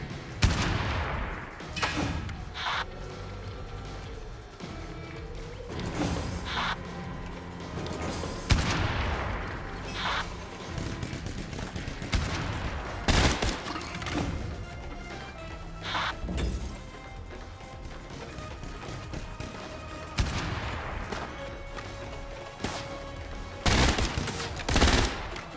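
Bursts of gunfire crack out repeatedly, single shots and rapid volleys with occasional crashes, spread irregularly over a busy soundscape in the video game Tiny Troopers Global Ops on PS5.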